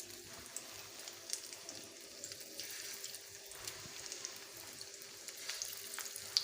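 Eggplant slices coated in masala fry in a pan, giving a soft, steady sizzle with faint crackles and pops throughout, low in level and without speech.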